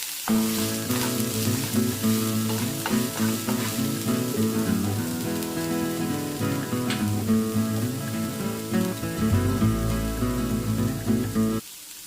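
Bitter gourd with curry leaves and salt sizzles steadily in hot oil, a dense continuous crackle with occasional stirring scrapes, close and fairly loud throughout.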